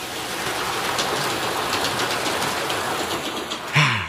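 A train travelling, heard as a steady, loud rolling rumble with broadband clatter that continues without a break for several seconds and has no voices over it.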